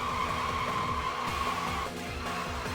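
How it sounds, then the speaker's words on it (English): A loud Toyota Levin AE85 engine drones steadily in the Initial D Arcade Stage Ver. 3 racing game, its rumbling harmonics filling the mix with a faint tone above, briefly dipping near the end. "this car is so fucking loud that I can barely even hear the music"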